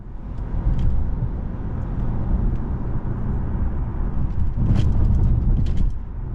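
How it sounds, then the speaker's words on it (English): A 2025 Acura TLX Tech base trim drives on the road, its steady low engine and road rumble filling the cabin, with a brief swell of louder noise near the end and no talk. "we're out on the road in this 25 TLX Tech"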